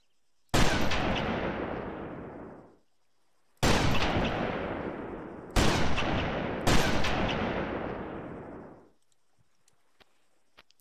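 Four loud SRS sniper rifle shots in a video game, each a sharp crack with a long fading tail, the first alone and the last three in quicker succession, followed by near silence with faint ticks.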